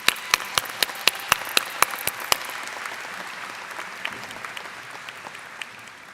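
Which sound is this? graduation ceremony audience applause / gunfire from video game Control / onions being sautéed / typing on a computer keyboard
graduation ceremony audience applause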